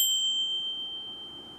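A bright notification bell sound effect gives one clean ding that rings on with a steady high tone and fades slowly, heard alone.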